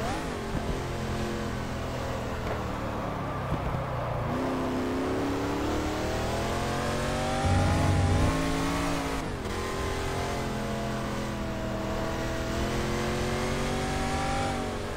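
A De Tomaso Pantera race car in GT Legends revs steadily up and down, its engine note rising and falling under load for the whole stretch, loud and close with no talking.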